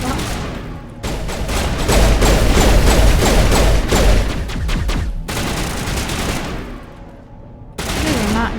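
Rapid bursts of gunfire from a sci-fi shooter firefight in Mass Effect, loud and sustained with dense automatic volleys and thumping shots, pausing briefly before resuming.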